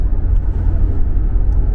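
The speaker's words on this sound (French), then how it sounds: "micro d'ambiance de la caméra pour tester le niveau sonore à bord de ce Mitsubishi ASX" Inside a Mitsubishi ASX cruising a highway at 110 km/h, a low steady rumble of road and engine noise fills the cabin with faint wind hiss above, continuous and even.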